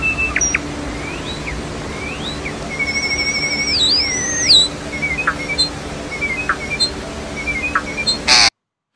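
A bird produces a string of electronic-sounding chirps, warbling swoops and whistles, like a robot's beeps, mimicking droid noises, fairly close and alone.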